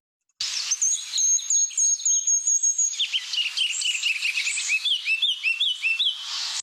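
Ruby-crowned kinglet, a tiny bird, singing loudly and continuously in spring, high thin notes giving way to a rapid up-and-down warbling phrase at the end, close and clear with no talking.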